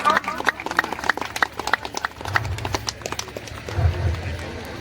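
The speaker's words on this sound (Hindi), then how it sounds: "आप लोग तालियां से स्वागत कीजिए हमारे बलरामिया को।" An audience at an Ambedkar Jayanti celebration claps to welcome guests on stage, scattered hand claps in an uneven rhythm that thicken toward the end, with a voice speaking over them.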